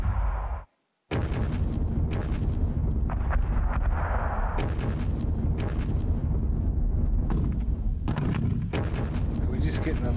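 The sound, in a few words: mortar fire explosions in the video game Panzer Battles Kursk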